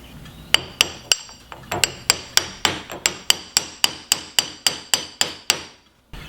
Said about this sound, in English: So I'll tap that, get it in place,